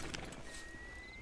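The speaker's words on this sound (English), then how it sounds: "Get on the horse there." Horse hooves clip-clop in the video game Red Dead Online, a few soft rhythmic thuds at moderate distance, quiet and brief, with a faint whinny-like tone and no talk over it.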